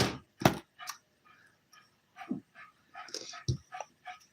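Dogs whimper and yip indoors on a hot day, with a string of short, faint-to-moderate cries and squeaks spread unevenly across the moment and no talking.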